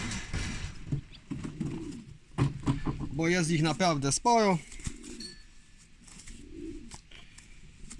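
Young homing pigeons coo softly nearby in low, rounded bursts while someone speaks over them, with some wing flutters and scuffling.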